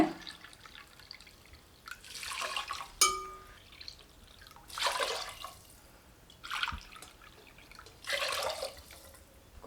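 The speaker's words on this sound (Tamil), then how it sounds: "அதே கப்பில் மூணு கப் அளவுக்கு தண்ணி விட்டுக்கலாங்க" Water pours in several short bursts, splashing and dripping into a pot with sweet potato for payasam, with quiet pauses between each pour.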